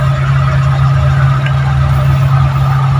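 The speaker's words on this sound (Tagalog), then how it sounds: "uminit na ang makina" A warmed-up manual car engine idles steadily and loud, a constant low hum with no talk over it.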